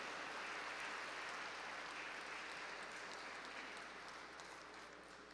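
A crowd at a commemorative ceremony applauds, a dense, steady wash of clapping that fills the space, carries on without a break and slowly tapers off toward the end.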